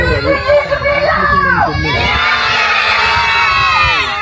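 Loud crowd of children and adults cheering and shouting at a sheep race on a dairy farm, a dense continuous roar of excited voices with shrill kids' yells rising throughout.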